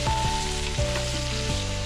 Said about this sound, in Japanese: 鍋に油を引き、肉以外を入れて全体に油をなじませます。